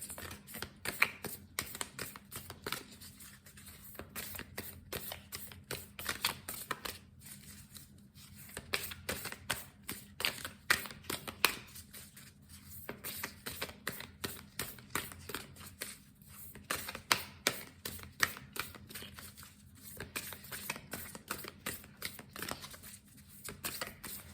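Rapid riffle-shuffling of playing cards in repeated bursts, crisp fluttering clicks separated by short pauses, close and fairly quiet.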